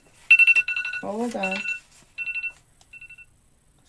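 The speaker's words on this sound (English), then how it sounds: "my alarm." A phone alarm rings in quick bursts of bright electronic beeps, pausing while a person speaks briefly, then sounding again in shorter, fainter bursts.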